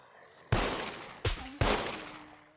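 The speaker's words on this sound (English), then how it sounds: "look how effective that suppressor is" Three suppressed gunshots in SCUM, sharp muffled thumps with short decaying tails, spaced irregularly over quiet ambience.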